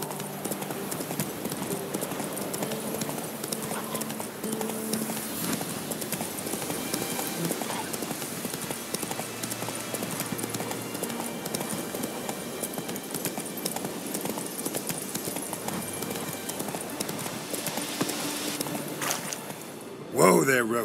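Roach the horse gallops in The Witcher video game with steady, rhythmic clip-clopping hoofbeats that run throughout, while a voice talks over them.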